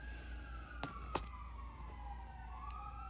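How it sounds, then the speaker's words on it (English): Emergency vehicle sirens wail far off, a thin rising and falling tone drifting beneath a quiet room, with two sharp clicks sounding closer by. "there's sirens."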